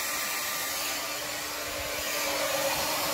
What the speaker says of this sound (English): my blow dryer